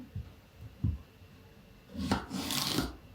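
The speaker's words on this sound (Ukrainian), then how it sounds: "Беру огірок, відрізаю хвостики, нарізаю такими от спочатку смужками" A few soft knife taps on a board, then a longer rasping burst of a knife slicing a cucumber into strips, crisp and moist, close up with no talking.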